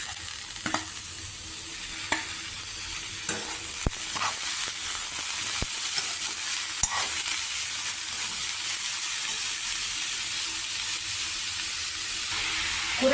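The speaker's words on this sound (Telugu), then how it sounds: "ఇప్పుడు ఇందులో ముక్కలు, అరటి దవ్వ ముక్కలు వేసుకుని బాగా మిక్స్ చేసుకోవాలి." Chopped banana stem pieces are stirred into frying grated coconut in a pan: a continuous close sizzle with repeated scraping strokes of a spoon at irregular intervals, and no voices.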